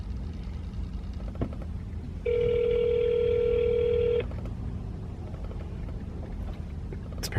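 A phone call being placed: a steady two-second dialing tone sounds alone over faint background hum, with brief clicks before and after.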